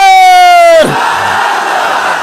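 A large crowd at an Islamic sermon gathering roars the takbir slogan Allahu Akbar in unison, a loud sustained chant that breaks off into a dense wash of many voices shouting together.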